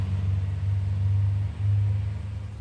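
A big-block 1955 Chevy with a tunnel ram and four-speed idles loud and close, a deep lumpy rumble that dips briefly and then swells back.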